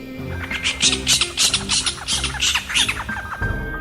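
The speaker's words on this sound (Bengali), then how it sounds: "ছাতিম গাছটা থেকে একটা হুতুম পেঁচা জোরে ডেকে ওঠে।" A horned owl calls loudly at night in a series of about ten sharp, harsh squawking cries in quick rhythm, close and clear, with no other sounds around it.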